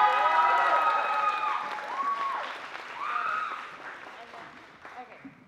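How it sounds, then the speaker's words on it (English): Audience applause at a university student association's annual banquet, a dense wash of clapping and cheering that fades over several seconds, with a voice speaking over it toward the end. "please give us applause for them"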